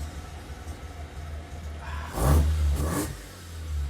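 A Mazda RX7 rotary engine on a dyno idles with a low burble, then revs sharply twice in quick bursts before settling back, close and loud.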